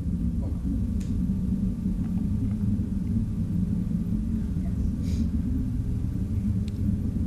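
Rocket engine roar from the Türksat 4A satellite launch vehicle near max Q, about a minute after liftoff: a steady, deep, distant rumble that runs unbroken throughout with no talk over it.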